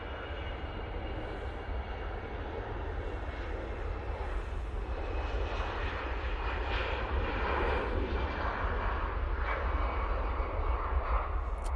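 Airliner departing Manchester Airport, a loud continuous jet engine roar that slowly builds and holds for the whole stretch, heard from outside with no talk.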